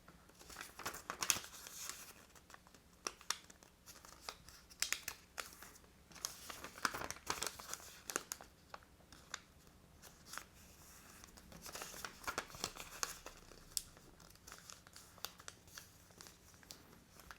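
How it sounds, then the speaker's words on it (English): Origami paper being folded into a decorative tray, with continuous crisp crinkling, creasing and rustling up close, irregular taps and crackles throughout and no talking. "I'm folding all four corners again to the center"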